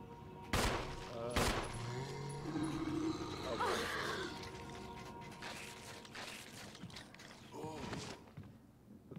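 Gunshots ring out in the survival horror game Resident Evil HD Remaster, two loud sharp blasts near the start and another burst later, mixed with growling creature noise and game sounds.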